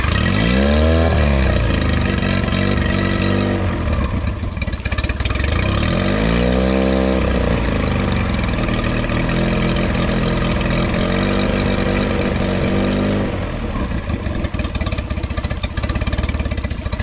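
A small 9.8 hp four-stroke outboard motor with a replacement carburetor starts up, revs a couple of times with rising pitch, then settles into a steady, close idle.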